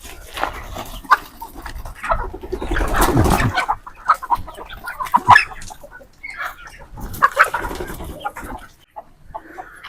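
Chickens in a low-cost backyard poultry setup clucking and squawking in irregular overlapping bursts, fairly close and loud, with no speech.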